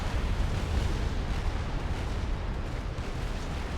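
A nuclear strike detonates in the real-time strategy game Supreme Commander, heard as a loud, sustained low rumbling roar of broadband blast noise that stays dense and steady throughout.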